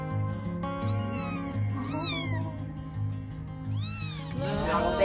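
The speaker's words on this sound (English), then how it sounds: "This is our kitty." A cat meows several times nearby inside a converted school bus travelling west, rising and falling cries over a steady low engine drone.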